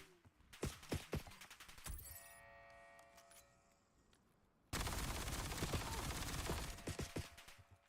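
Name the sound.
sentry turrets firing in the video game Overwatch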